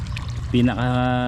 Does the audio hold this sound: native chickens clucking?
no